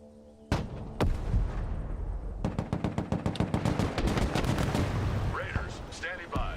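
Gunfire and artillery in the real-time tactics game Broken Arrow: after a couple of sharp blasts, a rapid string of repeated loud shots rattles on steadily, with radio-style voice chatter near the end.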